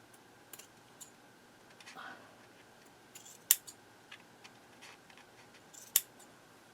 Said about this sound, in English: See, now these are hanging off the edge, so I am going to have to cut a little bit of these down.